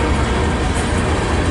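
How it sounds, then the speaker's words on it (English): A CSX grain freight train with GATX cars rolls past at close range in Fostoria, Ohio, giving a loud, dense, continuous rumble of wheels and wagons with no talking. "So once this train's done turning up there, it starts speeding up."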